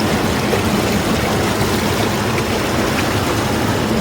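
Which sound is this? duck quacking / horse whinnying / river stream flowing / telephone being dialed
river stream flowing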